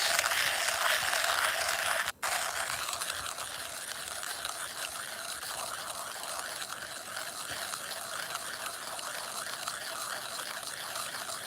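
Coffee beans grinding in an electric grinder, a steady dense gritty whir running continuously and fairly loud, broken only by a brief dropout near the start, with no talking over it.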